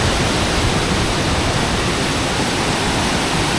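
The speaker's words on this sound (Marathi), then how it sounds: "हा बघा आमचा हिडन वॉटरफॉल" A small hidden waterfall in the Konkan region pours heavily during torrential monsoon rain, making a loud, dense, unbroken roar of rushing water close by, with no voices.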